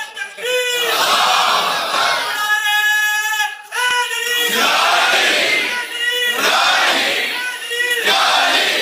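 A crowd of young men chants slogans loudly in repeated, rhythmic bursts of massed voices, close and sustained.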